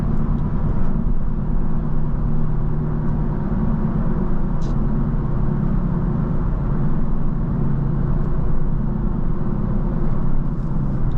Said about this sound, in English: there's definitely a lot of road noise because of those tires